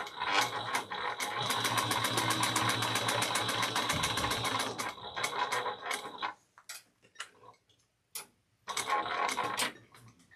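A sewing machine top stitches a backpack, running in a long steady burst of rapid even stitching, then stopping and restarting in short spurts with pauses between.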